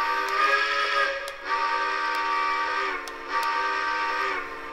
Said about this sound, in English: So here is the whistle.